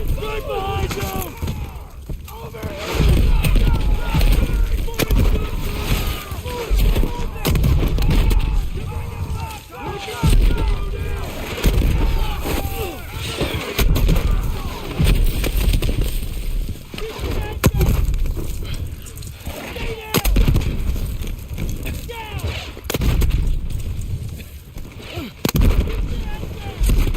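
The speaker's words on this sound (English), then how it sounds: "This guy's had like four mortars hit like right next to him" Mortar shells and gunfire from Call of Duty WWII gameplay: heavy low booms and rumbling blasts recur over a constant battlefield din, loud and close, with voices talking over the action.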